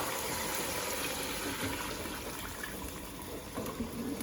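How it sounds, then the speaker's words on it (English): Lamb stock pours steadily into a pan in a continuous watery rush, close by and fairly soft, with no talking. "At this point I'm going to add the lamb stock."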